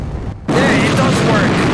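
Thermonuclear bomb exploding in Space Engineers, a brief moment of quiet cut off by a sudden massive blast that holds as a loud, sustained roaring rumble to the end.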